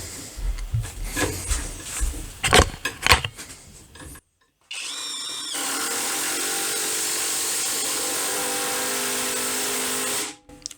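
A Dedra DED7147 brushless impact wrench driving a 34 cm, 10 mm screw into a wooden beam, heard as a loud continuous mechanical run after some scraping and handling noises and a short pause, then stopping abruptly.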